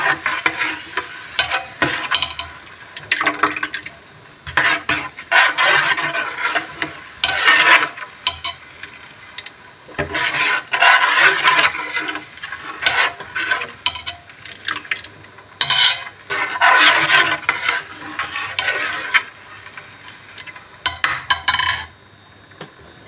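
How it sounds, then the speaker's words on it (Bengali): A spoon stirs kheer mix continuously in a pot, scraping and swishing in steady repeated strokes with faint sizzling underneath, close and fairly loud, with no talk. "এটা দিয়ে অনবরত নাড়তে হবে, না হলে পাতিলের তলায় লেগে যাওয়ার সম্ভাবনা থাকে।"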